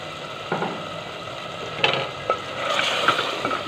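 Spices for chicken karahi biryani, including coriander powder, black pepper and bay leaves, fry in a pan as a spoon stirs them: quiet sizzling broken by a handful of scraping strokes, growing busier toward the end.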